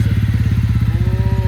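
A TVS Ronin 225 motorcycle engine runs close by with a loud, steady, low throbbing idle and an even pulsing rhythm throughout.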